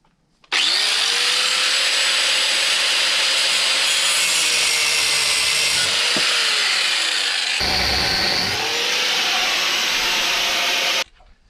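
Metal parts being ground with a power grinder, a loud, steady abrasive roar with a high whine that runs nearly nonstop for about ten seconds, dipping briefly midway and cutting off sharply at the end.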